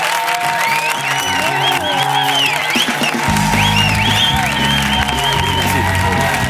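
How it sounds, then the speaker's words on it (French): A television studio audience bursts into loud, sustained applause with cheers and whoops for magician Charlie Clarck, the clapping dense and steady throughout. "Mesdames et messieurs, un tonnerre d'applaudissements pour Charlie Clark."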